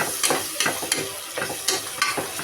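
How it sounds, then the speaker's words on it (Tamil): Chopped tomatoes stirred in a hot, sizzling pan for vegetable biryani, with a spoon scraping in roughly regular strokes over a constant frying hiss, loud and close. "ரெண்டு தக்காளி கட் பண்ணி வச்சுருக்கேன் இல்லையா அதை சேர்த்துக்கிறேன்"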